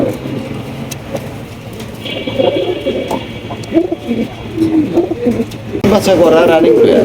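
Pigeons coo at a pigeon farm amid a busy background of birds and a passing vehicle, with someone speaking throughout over the soft, repeated calls.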